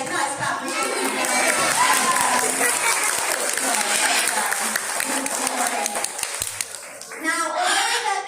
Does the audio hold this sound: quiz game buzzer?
no